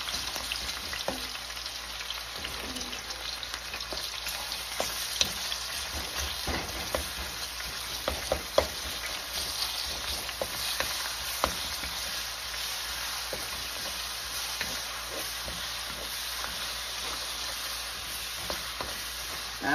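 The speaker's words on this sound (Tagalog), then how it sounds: "Isama natin ng bawang sibuyas ang pata." Pork hock sautés with garlic and onion in a hot pan, a steady, close sizzle with scattered pops and spatters and occasional stirring scrapes, with no talking.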